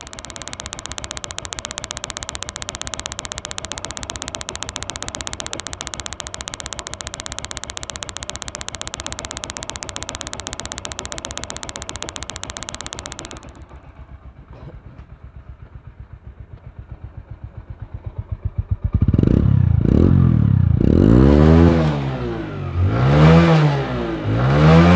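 A Hero Honda motorcycle engine with a new timing assembly and piston idles steadily for about thirteen seconds. It then drops to a quieter, pulsing idle, and loud revving bursts come near the end.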